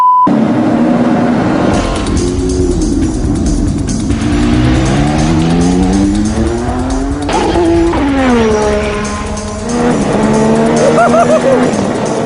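McLaren MP4/4 Formula 1 car driven hard around a corner, a loud screaming engine rising and falling through gear changes and revs, with tire squeal, right up close throughout.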